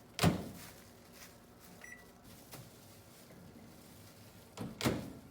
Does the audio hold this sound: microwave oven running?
yes